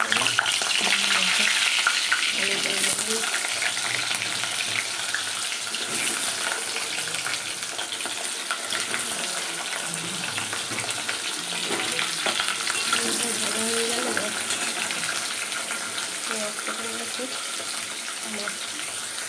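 Fish fries in hot oil with a steady, close sizzle that persists throughout, while a person talks intermittently over it.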